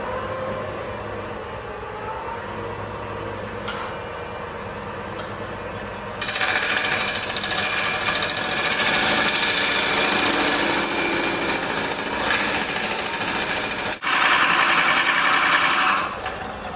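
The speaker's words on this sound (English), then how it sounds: "I'm cutting in at an angle with the parting tool" Lathe parting tool cutting at an angle into a spalted elm lamp base: a steady motor hum gives way to a loud, sustained rough cutting noise that carries on to the end, close and alone.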